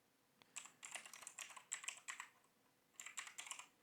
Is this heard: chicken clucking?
no